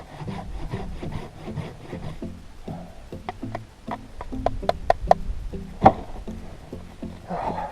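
Dry firewood being whittled and split into kindling at a winter hot-tent camp: steady close-up wood scraping and rubbing strokes, with sharp knocks and clicks clustering near the end and one louder crack.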